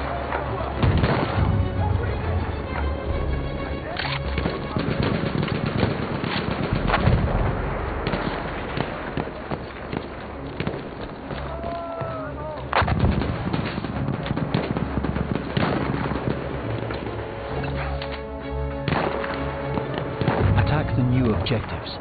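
Enemy artillery barrage and gunfire in the Battlefield 1 beta trench fighting, with heavy booms and sharp shots overlapping in a dense, continuous battle din that runs the whole time, with voices mixed in.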